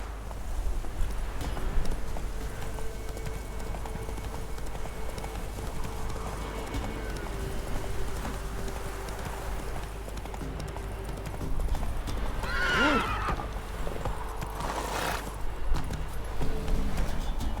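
Roach the horse in The Witcher 3 hooves clip-clopping at a steady pace near a burning castle, with a short neigh partway through and game ambience underneath.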